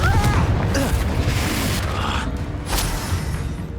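A Confringo explosive spell blast in Hogwarts Legacy, a loud booming burst near the start followed by further blasts and rumbling combat noise with a brief spoken incantation.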